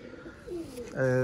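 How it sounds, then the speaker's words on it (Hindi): Lakha pigeons coo in a low, rolling call that swells louder toward the end, with some talking in the background. "लाखा कबूतर"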